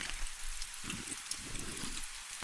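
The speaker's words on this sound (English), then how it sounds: "The rain continues to fall, a steady drumming that blends with the scratch of quills and the distant chanting." Steady rain falls on stone, a soft, even wash of patter with faint low swells, heard alone without voices.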